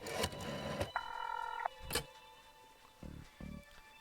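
A telephone is dialed in the video game Darkside Detective: a string of clicks and a short beeping tone, followed by brief low pulses like a ringback, set against a quiet ambient background.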